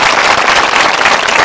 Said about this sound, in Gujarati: તાળીઓ પાડીને પ્રભુનો આભાર માનો.